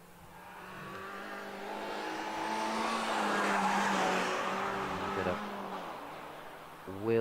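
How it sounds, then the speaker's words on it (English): A Mazda race car spins its wheels off the start line at the 2020 Wiscombe Park hillclimb. A rising engine roar with tyre squeal swells and fades over several seconds, while a commentator talks over it. "Wheel spin away off the line as another of the Mazdas takes to the hill"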